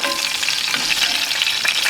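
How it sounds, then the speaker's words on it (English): Steak fat caps sear in a hot pan with beef tallow or clarified butter, a loud, close, continuous sizzle and crackle with no talking. "sear off the fat caps"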